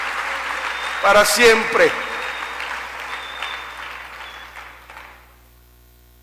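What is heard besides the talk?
congregation applause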